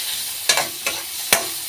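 Garlic sautéing in a pan with a steady soft sizzle, broken by three sharp scraping strokes of a spatula stirring it; close and fairly quiet, no voices.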